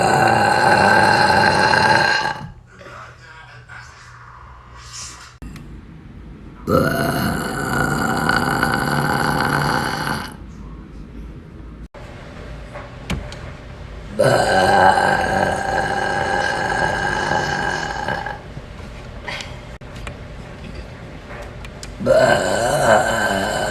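Long, loud, drawn-out burps from a woman, several in a row separated by brief quieter gaps, close to the microphone with a gravelly, croaking tone.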